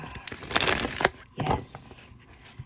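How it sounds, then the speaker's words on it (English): A slippery tarot deck being riffled and shuffled by hand, with soft papery crinkles and a few sharper card flicks close by, one brief faint voice in between. "Yes, it shuffles so nicely."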